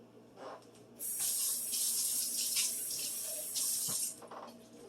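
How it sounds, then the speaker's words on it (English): Water is poured steadily into a crock pot of chicken chilli from close by for about three seconds, a bright hissing splash that starts abruptly and stops just as suddenly. "I'm going to drizzle a little bit of water in it so all the sauce goes into the crock pot"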